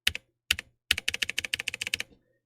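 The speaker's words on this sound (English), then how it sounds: "Here's what the D key sounds on my keyboard." Keystrokes on a gold membrane gaming keyboard: three separate presses of the D key, then a quick rhythmic burst of about a dozen crisp, close taps that trail off.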